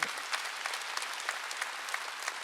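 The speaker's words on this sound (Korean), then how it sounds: "박수 치려면 세게 치라고." Steady, dense applause from a church congregation during a Wednesday service, sustained throughout with sharp individual claps standing out, no voices.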